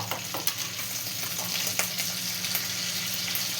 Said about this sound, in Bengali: বাটারটা ভালো করে মেল্ট হোক।